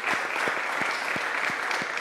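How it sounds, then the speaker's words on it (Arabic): Big round of applause from a live-stream audience greeting a young guest, dense continuous clapping with a few sharper claps standing out, steady and fairly loud throughout. "تصفيقة كبيرة كبيرة"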